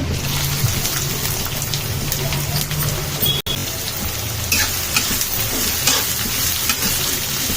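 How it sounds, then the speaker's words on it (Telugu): Onion and green chilli frying in hot oil with bagara masala on a medium flame for chicken fry, a loud continuous sizzle with stirring scrapes and a brief dropout midway. "దీన్ని మంచిగా మీడియం ఫ్లేమ్లో పెట్టి కొంచెం ఎర్రగా అయ్యే వరకు అయితే వేయించుకోవాలి."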